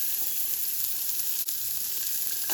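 Celery, onion and garlic fry in bacon grease in a soup pan, a steady loud sizzle with a brief dip midway as the pan is stirred.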